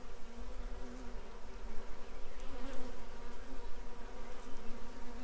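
Honey bees buzz continuously at a tree trap-out, a dense steady hum of many insects close by with no talking.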